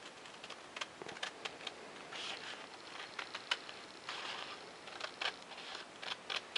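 Scissors or a blade cutting an elevon out of paper plans for a micro X-47B model: faint, irregular snips and small ticks scattered through a quiet room.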